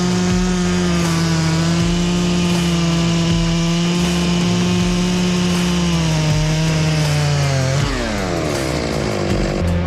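A chainsaw cuts hinge cuts into a tree trunk during a felling job, its engine a loud, steady high-revving drone that dips and shifts pitch near the end of the cut, with no talking.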